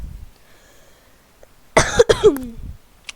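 A few sharp coughs in a quick cluster, close and fairly loud, following a stretch of near silence.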